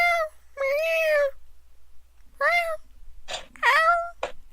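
A loud, talkative pet cat meows repeatedly up close, with drawn-out rising and falling calls followed by a quicker cluster of shorter meows, heard alone against a quiet indoor room.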